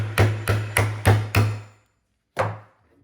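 Hammer taps knocking a nail out of a piece of reclaimed wood, five quick sharp strikes in a steady rhythm, then a pause and one final blow, close and loud with no talking.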